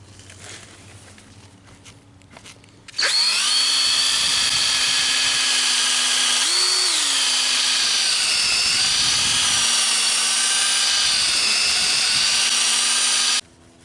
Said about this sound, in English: Let's go ahead and polish this fog light.